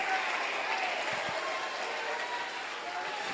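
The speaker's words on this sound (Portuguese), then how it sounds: "Aplauda Jesus de Nazaré." A congregation claps during a Sunday worship service in a church. The applause is a brief, moderately faint patter that fades slightly toward the end.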